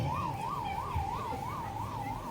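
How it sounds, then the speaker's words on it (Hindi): An ambulance siren wails outside in a steady, repeating up-and-down pattern, about six cycles in a row, fairly distant and unbroken, with no one speaking. "ये जो एम्बुलेंस बज रहा है ना, दिन भर ऐसे ही बजता रहता है अपने चारों ओर।"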